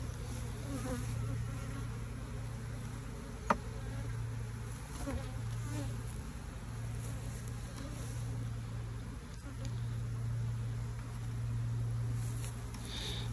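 Honeybees from a queen castle hive buzz steadily and close by throughout, a dense continuous hum with a low drone underneath and one brief sharp tap midway.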